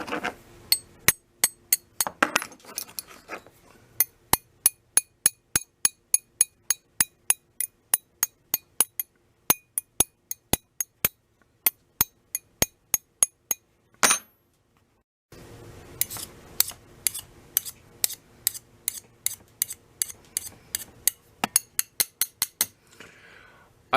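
A hammer taps a forged metal gasket scraper made over a wood stove, giving sharp ringing metallic tings in a regular series of strikes, with a short pause midway before a quicker run of taps.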